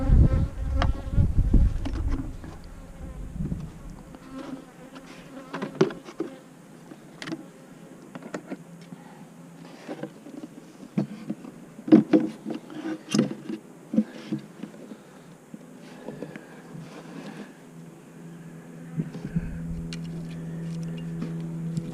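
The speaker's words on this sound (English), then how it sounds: "I have another bee yard, so what we're going to do, we got a lot of bees here" Many honey bees buzz steadily around a bee yard during nuc work, a dense close drone with individual bees flying past the listener, rising and falling throughout with no talk.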